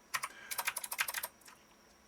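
A rapid burst of about a dozen computer keyboard keystrokes, crisp and close, typed in a quick run and then trailing off into a couple of softer taps.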